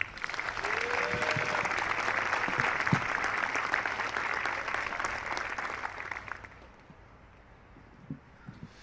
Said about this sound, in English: Just join me in a round of applause for these dedicated men and women.